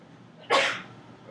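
A single sharp sneeze bursts out close by in a quiet room, then the room goes still.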